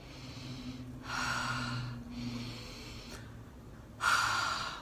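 During a Kundalini Yoga partner exercise, people breathe together in deep, audible breaths, with long airy inhales and exhales in slow alternation, close and clear, and nobody speaking.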